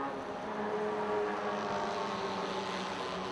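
A naturally aspirated Porsche 944 race car with a 2.5 litre four-cylinder engine holds a steady droning roar with a faint tonal hum, staying constant and moderately loud throughout.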